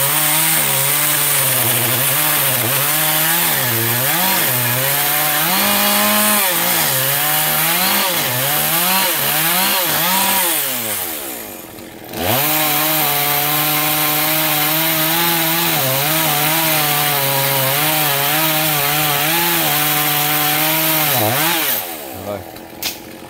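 A GZ4350 chainsaw cuts into a large eucalyptus trunk, its engine revving and bogging in wavering pitch almost continuously, with a brief near-idle dip midway and another near the end; loud and close.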